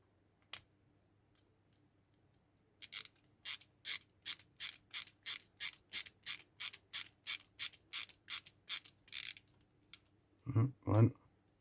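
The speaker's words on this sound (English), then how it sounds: "we'll use this ratchet now to secure it down properly" A ratchet tightens screws on a Hachette Build the Titanic model, giving a quick regular run of about twenty close, crisp clicks, followed by a couple of louder knocking handling sounds at the end.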